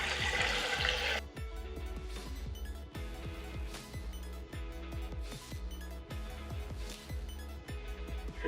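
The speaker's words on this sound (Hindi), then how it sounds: "अब हम इसमें 2 लीटर के करीब पानी शामिल कर रहे हैं।" About two litres of water poured into a soup pot for chicken corn soup, a brief rushing splash at the start that gives way to softer trickling and sloshing, quiet and close.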